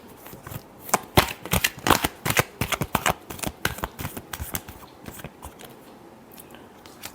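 Tarot cards are shuffled close up in a rapid series of crisp riffling snaps, loud at first and thinning toward the end.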